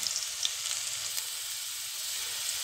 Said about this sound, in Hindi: तेल थोड़ा सा गर्म हो जाए तो सबसे पहले हम इसमें चॉप गार्लिक ऐड करेंगे।